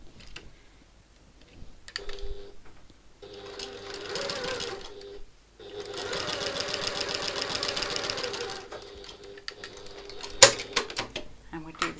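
A sewing machine joins fabric pieces with a quarter-inch seam in two close, rapid rattling bursts separated by a short pause, ending with a sharp click, with no talk over it.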